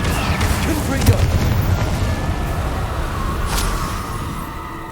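An explosive Confringo spell blast from the video game Hogwarts Legacy booms out in a loud, rumbling burst amid a dense roar of combat effects that continues throughout.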